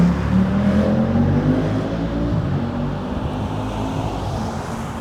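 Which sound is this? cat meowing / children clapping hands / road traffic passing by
road traffic passing by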